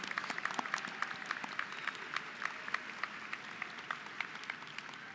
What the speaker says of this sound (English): LHS graduates, let's give them all a big round of applause